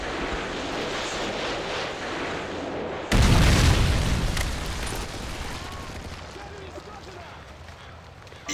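A Predator missile slams down in Modern Warfare 3, a sudden deep booming blast that rolls off slowly over several seconds amid a continuous rumble of battle, with game voice callouts around it.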